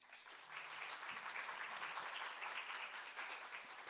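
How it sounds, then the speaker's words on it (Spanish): Sustained applause from a crowd, steady and full throughout, with no pauses or voices standing out. "les pido un aplauso para recibirla"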